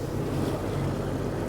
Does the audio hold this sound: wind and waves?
yes